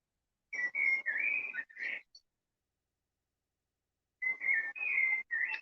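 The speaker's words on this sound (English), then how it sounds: "sort of lower pitched sort of whistling you can hear. That one there, that's the blackbird." A blackbird sings two bursts of fluting, whistled phrases with a quiet pause between them, clear and fairly close, with no other sounds.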